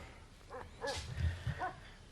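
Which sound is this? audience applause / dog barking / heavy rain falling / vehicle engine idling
dog barking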